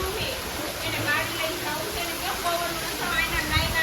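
Heavy monsoon rain in Mahuva pours down as a constant, dense roar of water, with a person talking over the downpour.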